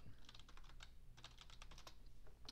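Computer keyboard keys tapped in a quick burst of light, crisp clicks while entering a command in the game DragonRealms, close and fairly faint with no voices.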